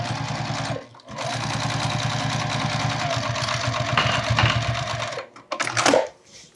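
A sewing machine top stitches a zipper wallet in a fast, even run of stitches that lasts about four seconds, stops, then gives a short final burst, all at a fairly quiet level.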